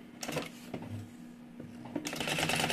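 A sewing machine stitches around the edge of a fabric mini backpack in short bursts of rapid mechanical clatter, pausing briefly between runs, close and moderately loud.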